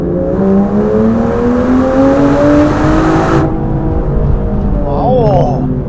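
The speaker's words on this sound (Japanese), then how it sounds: "ここからちょっとね前が空いたんでアクセルをフラットアウトで踏んでみましょうか。" A 2026 Aston Martin Vanquish accelerates flat out in third gear from about 3000 rpm on a Tokyo street, its engine note climbing steadily and loudly before an upshift, then the revs rising again.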